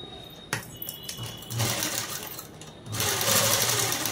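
A sewing machine stitches cloth while a Prince Cut model dress is being sewn, running in steady bursts with short pauses between, fairly close and clear with no voices over it.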